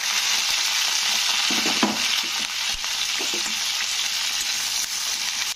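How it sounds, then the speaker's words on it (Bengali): Okra fries in a generous amount of sunflower oil, making a continuous close, bright sizzle with occasional soft stirring knocks. No one speaks. "তো একটু তেল একটু বেশি করেই দিলাম ঢ্যাঁড়সটা ভাজার জন্য"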